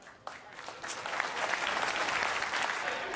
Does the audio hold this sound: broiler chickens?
no